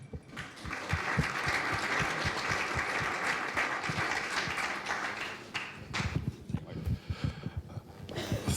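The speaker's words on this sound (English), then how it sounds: "Applause for Michael from Credit Reform." Panel event audience in Berlin applauds a speaker from Credit Reform, a steady moderate clapping that thins into scattered, uneven claps toward the end, with some voices mixed in.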